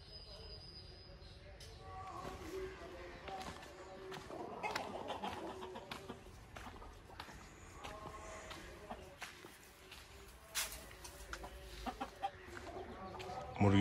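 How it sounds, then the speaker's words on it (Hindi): Hens cluck repeatedly at close range, with scattered farmyard bird calls and faint background voices. "मुर्गी अंडे देने में लगी हुई है"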